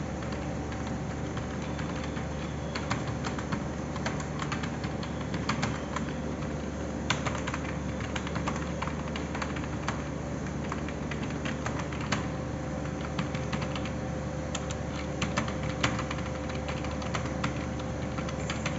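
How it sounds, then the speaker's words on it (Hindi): Rapid, steady keystrokes on a computer keyboard during a live junior assistant typing test, a continuous close-up patter of clicks with brief irregular pauses and no talking. "टाइपिंग आपने ऐसे ही करनी है।"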